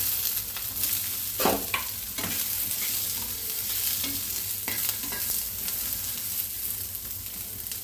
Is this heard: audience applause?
no